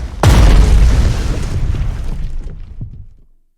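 Artillery bombardment in the wartime strategy game Strategic Mind: Spectre of Communism opens with one loud, sudden explosion whose heavy boom rolls on and slowly fades, with a few fainter thuds in the tail.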